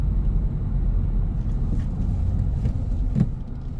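A manual-transmission car in third gear slows under braking toward a stop sign, its engine a steady low rumble with road noise heard from inside the cabin, and no speech.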